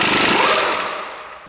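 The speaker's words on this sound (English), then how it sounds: "Now some of you might have issue with me hitting on the axle directly" Rapid, loud metallic hammer blows struck directly on the front axle of a 1997 Subaru Legacy during axle replacement, a dense, continuous burst of impacts that fades slightly toward the end, with no talking.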